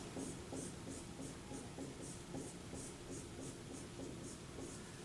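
A pen writes out a math expression with repeated cubed terms, giving faint, evenly paced scratchy strokes in a steady rhythm throughout, close and without speech.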